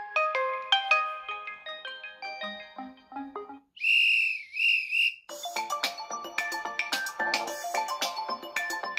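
Ringtone from a Tecno Spark 20 Pro phone speaker, a bright tinny electronic melody of quick plucked notes with a whistle-like sustained middle section, loud and close with no talking.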